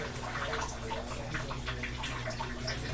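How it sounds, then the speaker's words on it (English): Water drains from a hot water heater being flushed, a faint steady trickling and splashing with scattered drips and a low background hum, heard close and without talking. "while the water continues to drain from our flushing"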